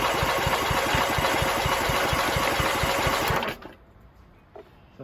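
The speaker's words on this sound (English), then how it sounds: "See if the starter motor actually works." A lawn mower's starter motor, powered by a battery booster, cranks loudly with a fast rhythmic chugging for about three and a half seconds, then stops abruptly into quiet with a few faint clicks.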